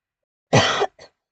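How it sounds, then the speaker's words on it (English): A single loud, close, rasping cough-like throat clearing is followed by a short, softer second hack, with silence before and after. "Do pardon my coughing."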